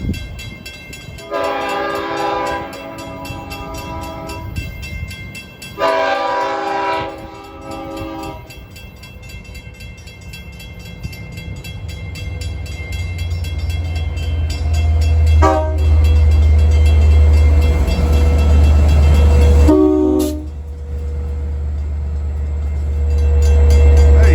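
A commuter train from New York to Speonk sounds two long horn blasts at a grade crossing in New Hyde Park, then rumbles past loudly and close, its low roar building steadily with short horn toots along the way.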